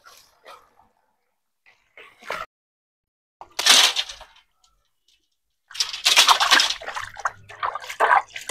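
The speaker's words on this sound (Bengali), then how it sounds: "এখন লাউ আর মাছটা আমি ধুয়ে নিয়ে আসবো।" Hilsa fish and bottle gourd are rinsed under running tap water in a kitchen, the water gushing in short intermittent bursts between quiet pauses, then running longer toward the end.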